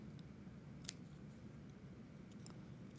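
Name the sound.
scissors trimming fabric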